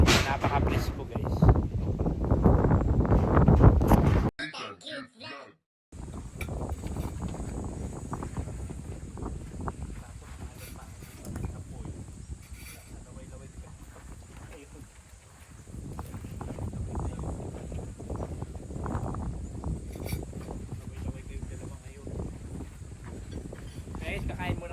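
Strong fresh wind blowing outdoors, heavy buffeting gusts rumbling across the microphone, loud at first, briefly cutting out, then returning in uneven waves with people talking at times.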